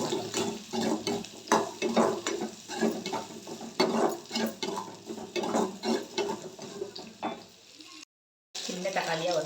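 Masala and grated coconut frying in a pan for mutton kolumbu, with a steady sizzle and repeated scraping clicks as a spatula stirs, close and fairly loud, broken by a brief silence near the end.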